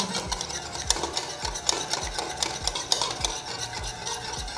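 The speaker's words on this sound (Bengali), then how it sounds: "এই বিটটা কিন্তু খুব ভালোভাবে করতে হবে।" Vanilla sponge cake batter is beaten by hand in a bowl, making quick rhythmic scraping and tapping strokes in a steady pattern, close and fairly quiet, with no talking.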